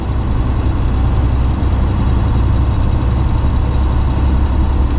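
A 1988 Volvo F10 320 truck drones steadily while driving, a loud, continuous low-pitched engine rumble with no breaks and no voices over it.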